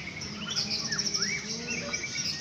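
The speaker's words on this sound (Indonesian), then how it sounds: "Biasanya para juri menilai burung ini dari volume suara yang keras dan nyaring hingga terdengar olehnya." A white-rumped shama sings at a bird-song contest, a steady run of bright whistled chirps and sliding notes that go on without a break over a low background hum.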